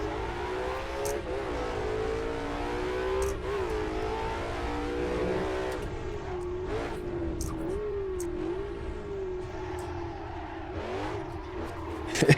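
Engine of a vintage race car with a top loader transmission in the Assetto Corsa game, revving steadily with rising and falling pitch through gear changes, loud and continuous throughout.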